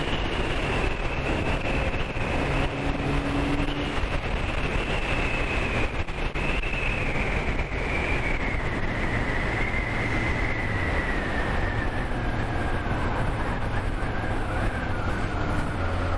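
Motorcycle cruising through town in third gear at 50 km/h, a steady engine drone with a slowly falling whine and heavy wind rumble throughout, no talking.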